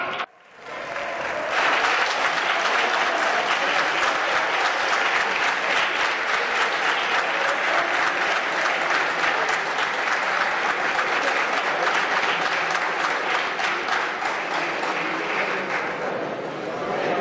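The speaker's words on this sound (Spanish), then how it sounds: "Sigan aplaudiendo como focas, señorías" Sustained loud applause from deputies in the Spanish Congress of Deputies, a dense continuous clapping that fills the hall at close range and holds steady throughout.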